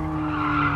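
Tires of a 1984 Ferrari 288 GTO skidding in Gran Turismo Sport, a short, loud, sustained squeal over engine drone, lasting under a second.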